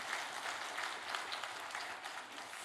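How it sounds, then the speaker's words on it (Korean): A church congregation claps steadily, a dense patter of many hands at moderate distance, continuing without a break. "박수 한번 크게 해주시면 좋겠습니다"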